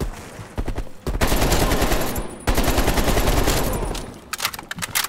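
Call of Duty Cold War gunfire: two long sustained bursts of rapid automatic fire, loud and close, broken by a brief pause and trailing off into scattered shots.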